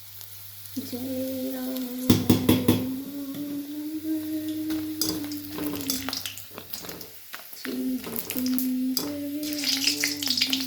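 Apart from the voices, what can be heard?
potato chips frying in oil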